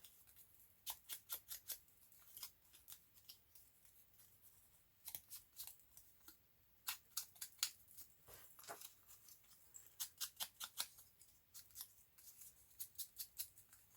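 Paper being snipped with scissors around an ink-outlined watercolour beach painting, cutting away white background bits: clusters of quick, crisp close snips in short bursts separated by brief pauses, quiet and alone with no talking.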